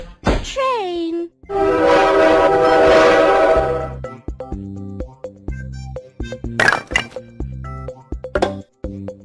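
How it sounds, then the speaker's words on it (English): A train gives a long, loud, sustained horn blast, then its wheels clatter in rhythmic clunks and thumps, with a short swooping voice-like sound at the start. "Train."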